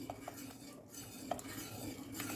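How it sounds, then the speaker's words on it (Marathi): Rice flour dough is mixed quickly in a pot, giving faint scraping and stirring with a few light clinks of a utensil against metal. "पटपट पटपट मिक्स करून घ्यायचं"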